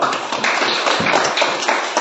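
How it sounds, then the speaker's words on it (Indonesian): Students in a classroom clapping their hands together, a dense, lively round of applause that stays loud and steady for a couple of seconds. "Tepuk tangan dulu."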